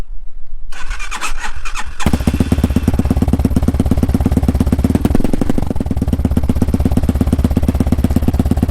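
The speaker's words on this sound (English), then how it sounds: "The bike has been sitting, so it sounds a little bit better at idle." A Hawk DLX 250 motorcycle with a new exhaust cranks and catches after sitting in the cold, then settles into a loud, close, steady idle with a fast even pulse, with no voices.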